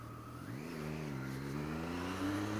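A Triumph Street Triple 675cc motorcycle's exhaust note climbs steadily as the engine revs up, a smooth rising drone heard alone and fairly close.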